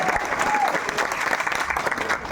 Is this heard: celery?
no